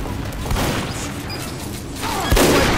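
Sniper rifle gunfire in the video game Team Fortress 2, a couple of sharp loud shots with a heavier blast near the end, set against continuous game noise.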